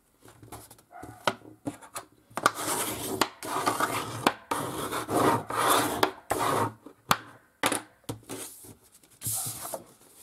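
Sheets of paper being folded and creased by hand for a double pop-up scrapbook card structure, giving bursts of dry rubbing and rasping at close range with short pauses between folds, no talking.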